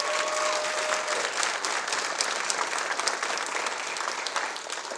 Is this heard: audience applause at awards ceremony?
yes